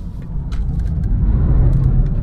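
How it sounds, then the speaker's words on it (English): BMW 220d diesel car accelerating hard with wheel spin, a loud deep engine rumble building steadily with brief scraping and tyre noise bursts, close and dominant. "a bit of wheel spin there, and we're off"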